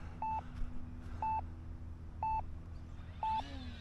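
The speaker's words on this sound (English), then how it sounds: "alarm's going off" An electronic alarm beeps four times at an even pace, short two-tone bleeps about a second apart, clear over steady outdoor background noise at an RC airplane flying session.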